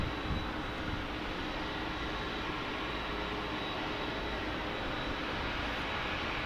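Airliners at San Diego airport, including a DHL 767 and a British Airways 777, produce a steady, broad engine roar at a distance, with a thin high whine running through it.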